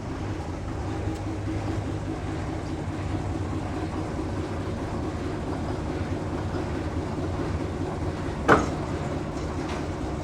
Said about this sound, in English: Going to hook up with the carriages.